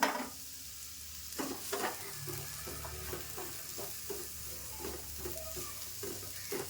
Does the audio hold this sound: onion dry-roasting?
yes